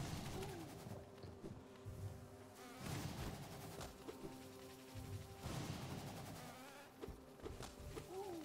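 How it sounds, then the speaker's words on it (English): Bees buzzing in Hollow Knight, a dense swarm of droning wings rising and falling in waves, loud and close, with no talking over it. "So many bees."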